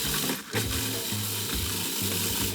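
Graham crackers are ground into crumbs, making a continuous close, rough crunching and grating with a rhythmic churning pulse, loud and without talk.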